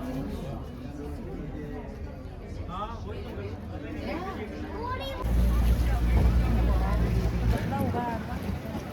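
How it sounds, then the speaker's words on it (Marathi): A boat on a lake in Udaipur draws near, its engine rumble swelling loud and low over wind noise and lapping water, with a hubbub of people talking throughout. "बोट अभी आ रही है."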